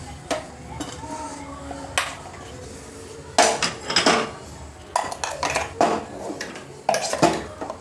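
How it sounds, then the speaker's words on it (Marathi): Steel spoon scraping and knocking against a mixer jar and bowl while ground masala for a drumstick (shevga) sabzi is scooped out, giving a run of close, sharp metallic clinks and taps at an uneven pace. "ते आपण एका चम्मचने एका बाउलमध्ये काढून घेऊ"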